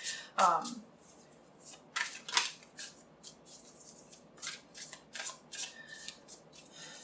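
Soft riffling and papery slaps of tarot cards being shuffled up close, irregular bursts with a few whispery sounds, fairly quiet.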